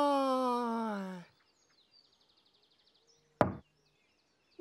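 A door is knocked on once with a sharp, loud rap in a children's television episode, following a sung voice and a stretch of near silence with faint ticks.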